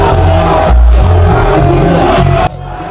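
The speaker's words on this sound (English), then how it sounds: "The crowd knew the difference and communicated it clearly," A loud festival crowd at Rolling Loud yells and roars in a dense, continuous wall of noise with heavy bass underneath, dropping off abruptly near the end.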